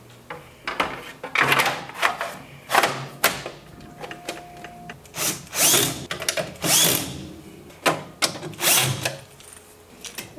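A power drill drives screws back into the belt shroud of a Keiser indoor cycle in a series of loud, close, whirring bursts of a few seconds each, separated by short pauses and light handling clatter.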